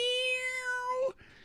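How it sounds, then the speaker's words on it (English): A cat gives one long, clear meow, loud and close, slowly falling in pitch for about a second before it cuts off into quiet room noise. "That's an awesome cat."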